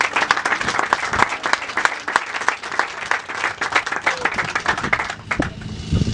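Audience applause fills a gathering as a woman is introduced to speak, dense steady clapping from a crowd throughout, loud and close.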